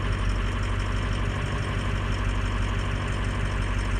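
A diesel 550 engine that was started cold idles with a steady, loud, low rumble. The knock is even and rhythmic and keeps going without a break, with no talking over it.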